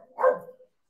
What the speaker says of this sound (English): It's nobody. It's just been dogs.